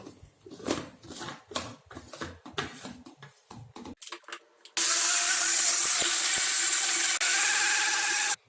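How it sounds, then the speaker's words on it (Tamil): A mixer grinder starts with a loud, steady high whine as it blends cucumber and lemon with ice and water into juice, after a few seconds of handling clatter and clicks at close range. "இப்போ நம்ம வந்து அரைக்கலாம்."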